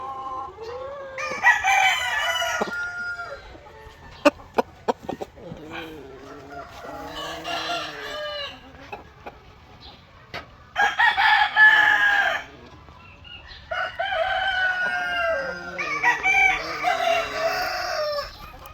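A rooster crows several times in drawn-out calls, with hens clucking between them and a few sharp knocks nearby.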